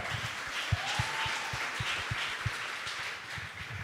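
A church congregation applauds during a sermon, scattered claps in a loose, irregular rhythm over a soft, steady wash of crowd noise, fairly faint and somewhat distant.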